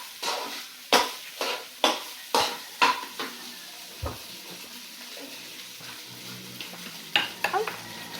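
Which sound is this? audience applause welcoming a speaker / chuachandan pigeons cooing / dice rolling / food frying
food frying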